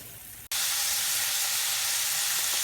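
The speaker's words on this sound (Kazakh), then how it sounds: "қуырылып жатқан еттің үстіне аздап су құйдым" Meat frying in a pan with a little water poured in: a sudden loud, steady hiss of sizzling steam starts at once and holds evenly, close and alone.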